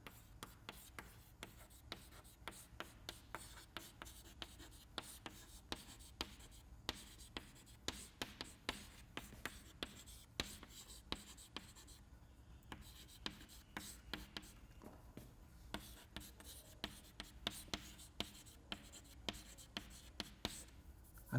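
A lecturer writes fluid dynamics equations on a board, making a long run of quick, quiet scratching taps and strokes in a steady, busy rhythm with no talk.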